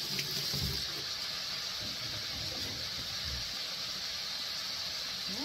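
Water from a kitchen sink tap runs in a steady hiss while hands are washed beneath it, with soft splashing and rubbing under the flow close by.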